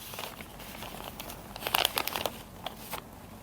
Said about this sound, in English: 2 taps of the packaging